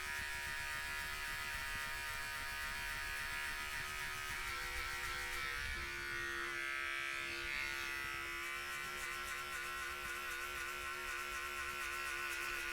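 An electric hair clipper fitted with a 2 guard, lever closed, buzzes steadily and close during a self-administered buzz cut, holding one even drone with slight shifts in tone as it moves through hair.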